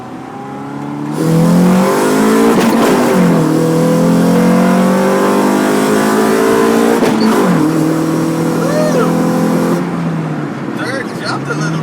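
A Lexus GS430 accelerates hard through the gears, its engine note rising and shifting in close, loud sweeps, with a quick chirp at one gear change, while voices talk underneath.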